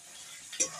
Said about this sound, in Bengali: টমেটোটা নাড়িয়ে চাড়িয়ে আমি এবার নুন দেবো